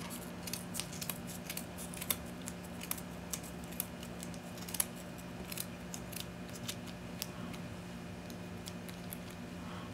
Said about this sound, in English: get your scissors, and you just cut it.